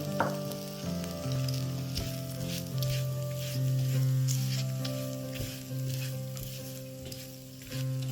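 Chili powder frying in a hot pan while making Kerala papad chutney: a steady, close sizzle with crackling and light stirring throughout, and no talk.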